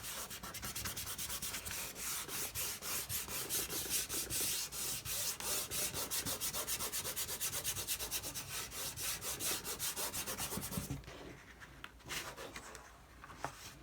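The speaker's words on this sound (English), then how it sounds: "you're going to fold it in half and rub" Rapid, steady rubbing on folded paper to transfer a pencil drawing, a close, dry scratchy friction that runs continuously and stops near the end, followed by a few faint handling sounds.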